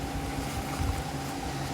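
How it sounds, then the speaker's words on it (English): Biting wind blowing through a blizzard, a steady low roar and rush of air with blowing snow, continuous and fairly loud with a gust near the middle, no voices. "Biting winds"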